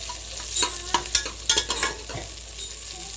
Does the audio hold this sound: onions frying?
yes